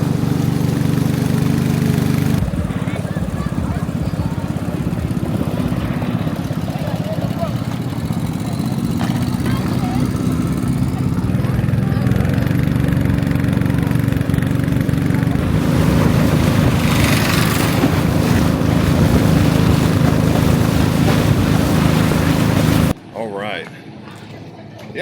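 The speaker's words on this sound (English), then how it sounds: "I'm going to see if he can give me a little ride on his boat." A small boat's engine drones steadily on the river at Vang Vieng, Laos, a loud continuous motor hum close by that holds for most of the stretch before cutting off near the end.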